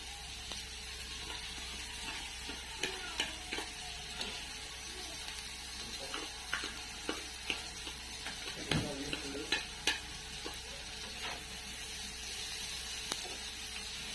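Onion frying with turmeric and salt, probably over a wood-fired chulha, gives a low, steady sizzle with scattered clinks and scrapes of a spoon stirring the pan.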